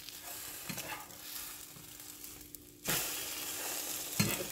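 French toast fries in a small pan, a quiet sizzle with a few utensil taps, then a sudden swell of louder crackling frying, close and continuous without speech.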